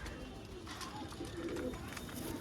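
Several pigeons from a collection offered for sale give soft, repeated cooing calls nearby, the throaty notes swelling slightly toward the end against a steady ambient murmur.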